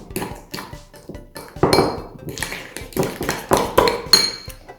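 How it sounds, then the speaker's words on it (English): Fork clinking against a bowl while whisking brownie batter for a fudgy brownie with cheesecake topping, a series of quick irregular metallic taps and scrapes, close and moderately loud, with no talking. "then with a fork I'm going to just whisk it around a bit"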